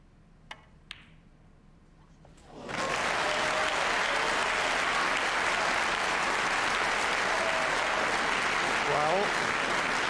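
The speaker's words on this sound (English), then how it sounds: "round of applause" Snooker audience bursts into loud, sustained applause at a 2000 World Championship semi-final between John Higgins and Mark Williams, rising after a few quiet seconds with faint clicks and holding steady to the end.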